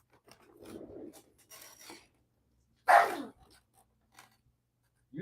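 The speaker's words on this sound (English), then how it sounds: "Did you hear my dog bark at me?" A dog barks once, loud and close, in a quiet room, amid brief rustling and rubbing sounds, with no talking.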